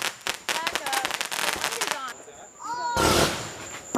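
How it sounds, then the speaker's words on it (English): Fourth of July firework going off in a yard, a rapid string of sharp crackling pops and bangs with whistling streaks, then a louder sustained crackling burst at the end, with voices in the background. "Summer just lit a firework and ran away, and it's that little spark"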